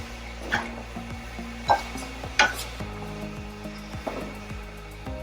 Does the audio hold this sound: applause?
no